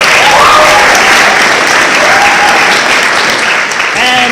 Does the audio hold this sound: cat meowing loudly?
no